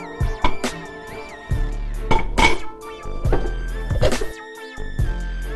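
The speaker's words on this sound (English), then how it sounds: "I'm going to finish julienning the rest of this beet" A knife cuts a beet into thin julienne strips on a board, giving repeated close, crisp clicks and taps with short pauses between strokes, sounding alone with no voice.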